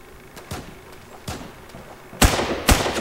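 An M4 carbine fires in the Roblox game Phantom Forces: a handful of sharp, separated shots, the last two much louder and closer than the faint earlier cracks, with no talk.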